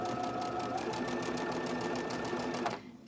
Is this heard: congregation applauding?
no